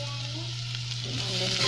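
Garlic frying in a pan for ginataang monggo gives a steady, close, dense sizzle with a constant low hum underneath, swelling slightly louder toward the end.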